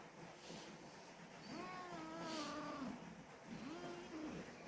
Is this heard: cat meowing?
yes